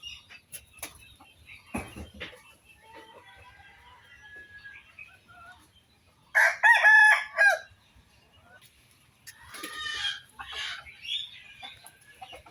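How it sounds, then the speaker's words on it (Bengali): Chickens in a rural village setting, with soft scattered clucks followed by a loud, close crow and more calling, set against a quiet outdoor background. "এই মুরগিটা দেখেন কীভাবে একা একা নামতেছে"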